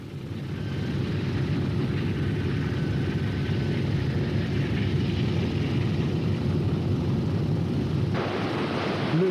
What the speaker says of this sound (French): L'un après l'autre, les B-17 s'alignent sur la piste.